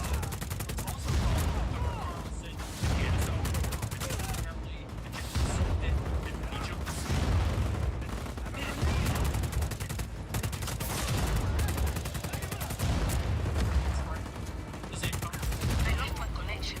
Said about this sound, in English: Who is shooting rockets?